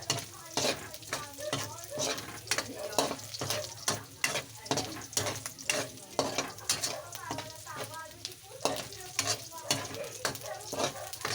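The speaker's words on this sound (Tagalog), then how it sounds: "Konting halo-halo at baka masunog." Vegetables for pakbet with a little browned meat frying in a pan, stirred with repeated rhythmic scraping strokes over a steady close sizzle.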